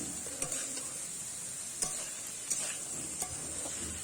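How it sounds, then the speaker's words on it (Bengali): Cauliflower stems stir-fried in oil in a pan, a steady soft sizzle with occasional stirring scrapes and clicks of the spatula, fairly quiet and close. "এই তেলের সঙ্গেই আর একটু নাড়াচাড়া করে ভেজে নিতে হবে"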